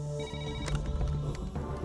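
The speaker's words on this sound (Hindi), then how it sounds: "पुलिस स्टेशन में कदम रखते ही पहले दिन के फोन कॉल ने चैत्रा की जिंदगी को बदल दिया।" A telephone rings at a police station in an action film scene, giving a steady electronic ringtone with tonal chimes and a low background hum underneath.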